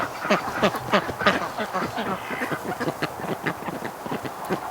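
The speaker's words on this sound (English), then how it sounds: "Look at the little duckies." Ducks gathered at a hay dispenser outdoors in winter, quacking in a busy, overlapping chorus of repeated calls, close and fairly loud throughout.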